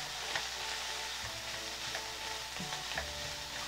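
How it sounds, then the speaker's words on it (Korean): Onions being stir-fried with fried rice in a pan for tray-style jajangmyeon with cellophane noodles, a steady close sizzle with scattered scraping and stirring clicks throughout. "양파를 넣어서 같이 볶을게요."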